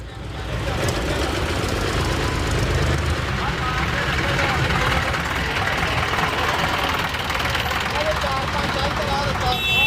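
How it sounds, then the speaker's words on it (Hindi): A tractor engine runs steadily and loudly through the whole stretch amid a busy, crowded road during a farmers' protest march, its low rumble continuous, with crowd noise and voices mixed in. "पीछे एक और ट्रैक्टर आ रहा है"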